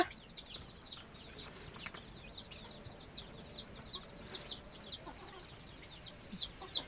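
Desi village hens cluck and murmur softly in a repeated, irregular pattern, a few birds close by over a low background hum with no talking.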